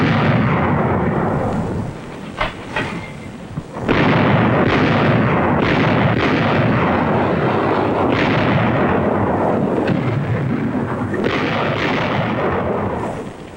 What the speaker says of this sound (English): We landed artillery on the 2 small islands on either side and blasted at close range.